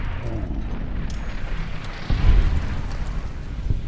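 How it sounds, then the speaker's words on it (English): A robot enemy in Fallout New Vegas fires missiles that burst into rumbling explosions, a dense, noisy roar with a heavier boom partway through, loud and continuous. "He fires a lot of missiles, he does."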